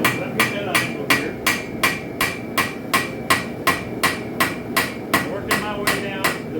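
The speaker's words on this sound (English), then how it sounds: "I'm working this bevel. I'm on the anvil on this side here." Steady hammer blows ring on an anvil while a spike knife bevel is forged, sharp metallic strikes repeating evenly about twice per second, close and loud with nothing else heard.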